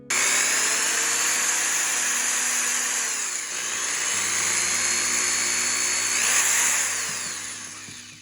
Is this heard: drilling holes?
yes